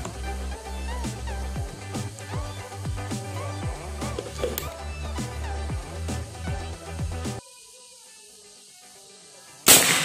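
An air rifle fires a rapid series of sharp cracks over a steady background. After a short quiet stretch, one loud burst follows near the end.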